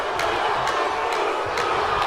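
A steady, loud arena crowd roar from a WWE 2K23 wrestling match fills the whole stretch, with faint periodic swells of cheering and booing and no voices over it.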